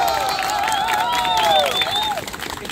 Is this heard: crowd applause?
yes